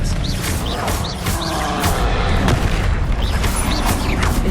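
Expelliarmus spell impacts in the Hogwarts Legacy video game, loud booming blasts and crashes coming in quick succession over dense, continuous battle noise with no pauses.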